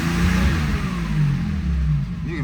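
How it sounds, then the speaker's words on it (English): A 1977 Porsche 911 Targa engine revs up close, with a steady, rising mechanical drone that holds loud and even throughout the short burst. "You can really rev this car out."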